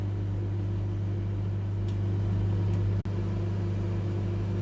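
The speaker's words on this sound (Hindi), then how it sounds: "इसको अब हम करते हैं स्टार्ट। मुझे शायद इसको 90 से पहले ही बंद करना पड़े क्योंकि हमारा माइक्रोवेव काफ़ी पावरफुल है" A powerful 1500-watt microwave oven runs steadily while baking keto bread, giving a constant low hum with a faint whir and one brief sharp click partway through, no voices.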